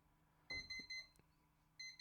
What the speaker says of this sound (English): I put the beep on just for alertness.